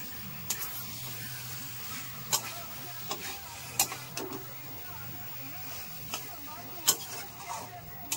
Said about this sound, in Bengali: হালকা হাতে নেড়ে দেবো।